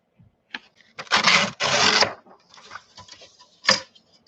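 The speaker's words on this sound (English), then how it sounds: "I love that sound, tearing paper" Paper is torn in two quick, rasping rips close by, followed by fainter crinkling and one last short tear, with no voices.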